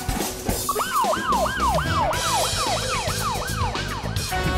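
A police siren wails loudly and steadily, sweeping up and down about ten times in an even rhythm, close by with a constant backdrop of other sound.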